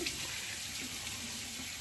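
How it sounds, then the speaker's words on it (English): A Bull Dog Sensitive five-blade razor with a recycled glass handle being rinsed under warm running tap water, a steady, even splashing hiss close by with no speech. "So I really got that warm water into the mechanism, flushed it out."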